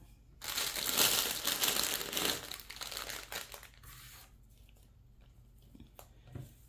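Tissue paper crumpled and crinkled by hand into a Dollar Tree Mother's Day gift basket, dense close rustling for a few seconds that thins into scattered soft crinkles.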